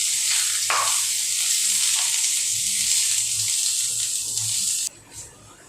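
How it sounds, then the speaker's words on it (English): Onions frying in oil heated to smoking point in a cast iron pan, a loud, steady hiss and sizzle over a few faint low knocks, then the hiss drops away abruptly near the end. "Now I'm going to add some onions and we are going to fry them till they are properly brown."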